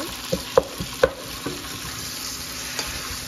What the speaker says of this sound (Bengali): চিকেনটা পেঁয়াজের সাথে ভাজতেছি, একটু ভালো করে ভাজতে হবে